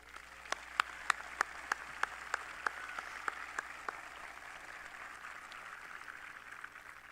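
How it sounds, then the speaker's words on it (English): A graduation audience applauding at a high school ceremony, heard as a sparse run of distinct claps with a steady rhythm that thins out over the clip, set against a faint room hum. "Please join me in giving them a nice round of applause."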